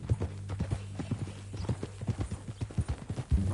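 Horse hooves clip-clop at a steady walking pace in Red Dead Redemption 2. The hoofbeats are close and distinct, with a low game hum beneath them, and there is no speech.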